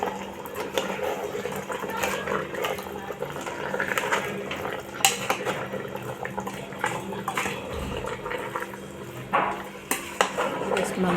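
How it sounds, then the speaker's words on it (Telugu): A spoon stirs garam masala into a village-style country chicken curry in a metal pot, with continuous scraping, clinking and sizzling, and soft voices in the background. "అంతా కలిపెట్టుకుందాము."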